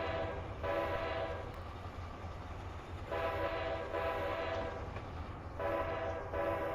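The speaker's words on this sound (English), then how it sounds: "Gotta sound the horn a little bit there. 2 toots for the horn just to let them know you're coming through." Train horn in Train Simulator 2021 on an Illinois high-speed rail route, sounding in three loud sustained blasts over a steady low rumble of the moving train.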